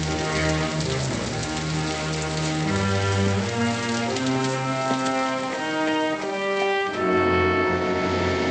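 Steady rain falls on a surface in a frontier setting, a continuous hiss that is partly covered by music with sustained tones.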